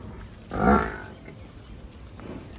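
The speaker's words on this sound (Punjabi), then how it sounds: "ਬੱਚੇ ਲਾਉਣ ਵਾਲੀ ਮੱਝ ਆ ਬਰੀਡ ਦੀ ਆ" A breeding water buffalo on a Punjab dairy farm gives one short, deep low of about half a second. The call is fairly close and clear, followed by quiet farm ambience.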